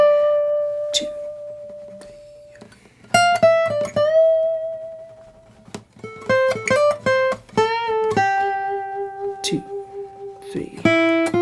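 Electric guitar plays the B section of a song, a sparse run of clean single notes and slides with pauses between phrases, picked fairly close and moderately loud.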